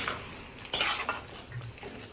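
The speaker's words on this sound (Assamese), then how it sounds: "পেষ্ট কৰি থোৱা মছলাখিনি একেবাৰে দি দিছোঁ এইখিনি ভাজি লওঁ" Spice paste frying in a pan with marinated chicken for chicken pulao, soft sizzling with a sharp spoon-stirring scrape and a few clinks of utensil on metal, close and fairly quiet.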